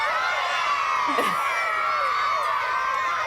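A crowd of children shouting out their favourite rugby league team at a training session before the NRL Grand Final, a loud continuous chaotic roar of young voices.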